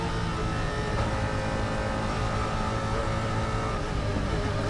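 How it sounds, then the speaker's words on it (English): The V8 engine of a GT1 race car at the 2011 FIA GT1 Navarra qualifying session drones steadily under acceleration, a constant, fairly distant roar with no clear gear changes or voices. "Lovely noise from that V8 engine as well."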